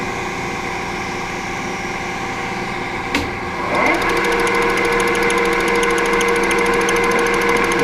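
An Alzmetall metal milling machine's spindle is sped up to 775 RPM; a steady mechanical hum is broken by a click, then settles into a brighter, higher whine with ringing tonal overtones.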